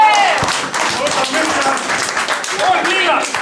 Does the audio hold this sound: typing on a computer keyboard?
no